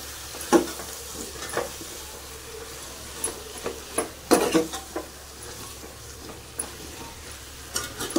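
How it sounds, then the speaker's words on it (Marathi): Potatoes and kolmi shrimp are stirred into hot frying masala, with a steady sizzle and scattered spoon scrapes and clinks against the pan, close and fairly loud, no voices. "तर हे बघा बटाटा कोलमी आपण टाकून घेऊया आणि मिक्स करून घेऊया"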